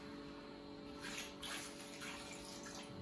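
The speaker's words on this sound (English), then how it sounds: "this is the water I'm adding" Water poured into a cooking pot holding eggs while making Ghanaian aboom with yam, a steady close splashing rush that runs for about three seconds with no talk.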